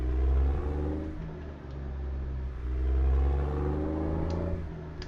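A Detroit 60 diesel truck engine in American Truck Simulator drones and rumbles steadily, rising and falling gently as it pulls along a highway cruise, with no one talking.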